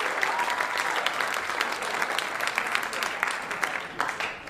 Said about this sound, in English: Yeah, sure. You can clap.